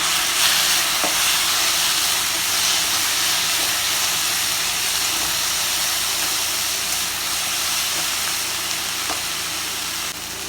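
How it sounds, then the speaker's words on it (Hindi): A loud, continuous sizzle and hiss of chopped tomatoes frying with browned onions in a pan for a Chhattisgarhi greens dish, steady throughout with a few faint clinks. "अभी मैं डाल देते काट के रखे टमाटर थोड़ा।"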